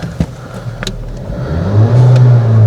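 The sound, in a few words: VW Golf 1.5 TSI engine starting and revving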